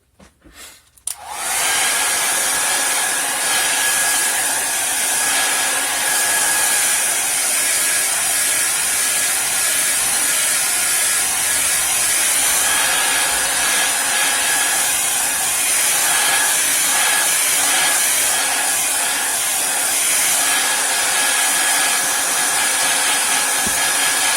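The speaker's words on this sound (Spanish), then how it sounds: "Se soluciona súper fácil con la pistola de calor o secador de pelo." A heat gun or hair dryer warms a sheet of paper, blowing a steady, loud, continuous roar with a high whine from start to finish after a brief quiet opening.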